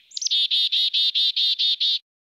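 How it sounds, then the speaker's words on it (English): A chickadee sings a clear, loud series of about eight evenly spaced high whistled notes, close and isolated against silence, ending abruptly after two seconds. "they say chickadee dee dee. They say their name is like their call."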